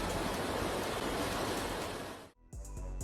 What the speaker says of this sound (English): They even created this mind-blowing waterfall with a height of 110 meters.